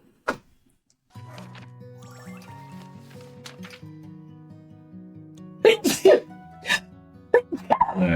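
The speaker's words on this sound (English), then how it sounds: "I'm about to sneeze" A single sharp sneeze bursts out near the start, followed by a stretch of soft background music with scattered clicks and bursts of louder activity later on.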